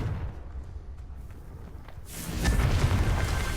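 The Confringo fire-blast spell in Hogwarts Legacy goes off midway with a sudden loud whoosh and boom, followed by a dense rumbling roar that lingers after quieter low background noise.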